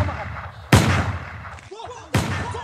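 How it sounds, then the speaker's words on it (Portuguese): Two sharp, loud gunshots ring out about a second and a half apart during a shootout, each with a short echoing tail, over faint background noise. "relaxa que é só uma hora de tiro só"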